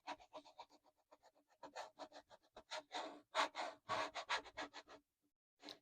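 A squeegee is rubbed over a multi-color vinyl decal layered on parchment paper, giving a close, rhythmic series of short scraping strokes that speed up and grow louder toward the end, with no talking.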